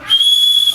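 A single loud, sustained whistle blast on one steady high pitch, close and piercing, lasting most of a second during a football scene in a school play.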